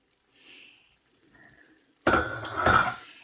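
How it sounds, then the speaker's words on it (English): A lid lifted off a pot of cooked turkey meatballs, a sudden metallic clatter after a few faint soft rustles, with a brief rattling ring as it comes free. "I'm just going to take this lid off."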